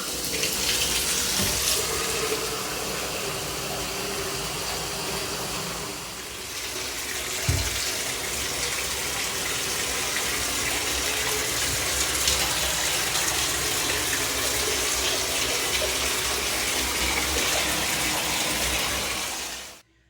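Water poured from a plastic milk jug to rinse a bathtub: a steady, continuous splashing and rushing stream, close and loud, briefly easing midway before continuing, then cutting off at the end.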